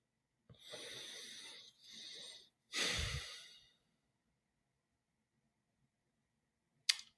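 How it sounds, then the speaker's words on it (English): Slow breaths taken before meditation, heard up close: two airy exhales close together, then a deeper, fuller breath, followed by quiet and a short sharp click at the end. "let's get started with a little breath"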